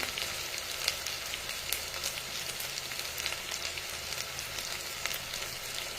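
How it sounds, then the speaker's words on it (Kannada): Chopped green chillies frying in ghee in a pan for ghee rice, a steady soft sizzle and crackle with faint pops, heard alone at low volume. "ಇದು ಚೆನ್ನಾಗಿ ಫ್ರೈ ಆಗಿದೆ"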